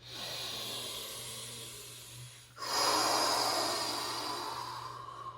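Deep breaths drawn in during a guided yoga session: a long, steady airy inhale that dips briefly, then a louder, fuller second breath swelling up close over a constant low hum, with no talk.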